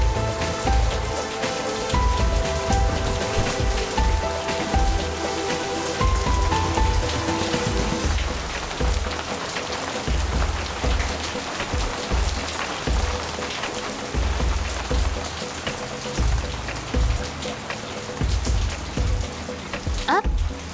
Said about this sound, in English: The rain is starting to ease up too.